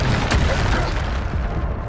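A Bombarda explosion spell from the Hogwarts Legacy video game lands as a loud, close boom that rolls into a dense, rumbling blast lasting under two seconds.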